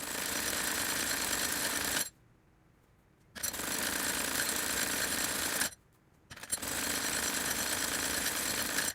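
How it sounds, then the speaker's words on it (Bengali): Sewing machine stitching the cuff of a maxi dress in close, steady bursts of rapid mechanical whirring, broken by two short pauses of near silence. "এই যে মুহুরির অংশটা আমি এইভাবে বাকিটুকু সেলাই দিয়ে নিব।"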